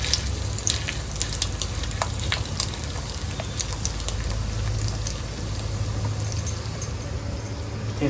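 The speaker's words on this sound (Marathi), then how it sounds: "चला तेल तिकडं गरम झालं, लगेच आणि वड्या सोडायला केली सुरुवात" Fritters made from tiny shrimp (kolim) fry in hot oil on a thin griddle, giving a steady close sizzle with scattered crackles and pops throughout, no voices.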